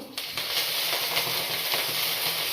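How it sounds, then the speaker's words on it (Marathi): Hot fried oil hissing hard on a high flame while chilli chicken cooks restaurant-style, a steady close-up sizzle with small crackling bursts throughout and no talking. "आता ना हे जे फ्राय केलेलं तेल आहे ना तेच थोडंसं हाय फ्लेमवरती"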